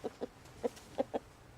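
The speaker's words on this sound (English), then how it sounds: "I never thought I'd own a chicken before." A pet chicken clucking in five short, soft bursts with brief gaps between them, faint and close, with no talk over them.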